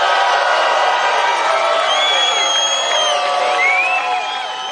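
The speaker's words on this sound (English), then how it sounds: "listen to the response when he pitched Dr. Oz to the crowd" Political rally crowd responding to Trump pitching Dr. Oz in Pennsylvania, a loud, sustained mass of cheering, whoops and shouting voices that tapers slightly at the end.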